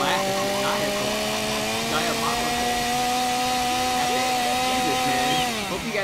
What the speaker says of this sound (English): rubbing chainsaws for 25 minutes, because that might be what you're hearing